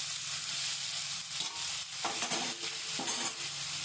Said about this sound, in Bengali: টমেটো দিয়ে নাড়বো